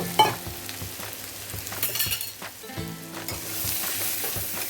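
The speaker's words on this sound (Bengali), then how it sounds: "এই যে সাবুদানাটা ভিজানো এটা অ্যাড করে দিলাম দিয়ে ভালো করে নাড়াচাড়া করব" Soaked sabudana (tapioca pearls) stirred and fried in a pan for sabudana khichdi: a steady close sizzle broken by repeated scraping and knocking of the spoon against the pan.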